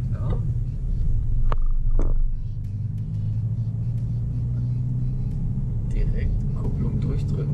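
Car pulling away in first gear during a driving lesson, a steady low engine rumble throughout with a brief rise early on, while an instructor and learner talk over it.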